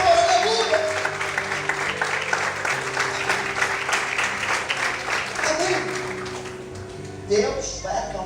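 A church congregation claps during a Portuguese-language worship service, a dense, sustained round of applause filling the room while a preacher's amplified voice speaks over it, with a brief loud swell near the end.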